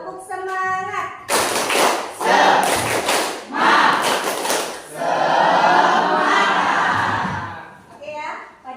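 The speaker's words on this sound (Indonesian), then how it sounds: "Kalau semangat, kita tepuk semangat dulu, ya." An Indonesian school class does a rhythmic spirit clap, tepuk semangat, in bursts of loud group claps and thumps. A teacher's voice is heard before and after, and the children call out between the clap sequences.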